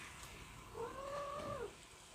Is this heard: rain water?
no